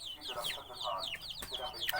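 Thai fighting cocks cluck and chirp in quick repeated calls, close by, with some background noise and a short sharp knock partway through.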